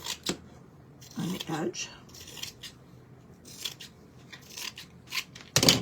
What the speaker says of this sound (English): I'm going to take my sharp scissor here, and we're going to get rid of a little bit of the excess